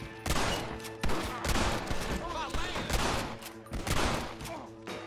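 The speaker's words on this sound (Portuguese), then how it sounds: "Vocês estão atirando nos caras ou estão atirando em mim?" Rapid gunfire from a Red Dead Redemption shootout, with dense overlapping shots and bursts cracking continuously through the whole stretch, loud and close.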